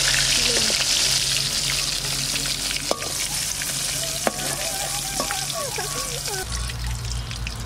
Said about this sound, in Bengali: ওই তেলের মধ্যে জিরে তেজপাতা শুকনো লঙ্কা দিয়ে দিচ্ছি।